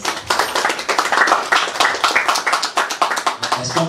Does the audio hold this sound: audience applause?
yes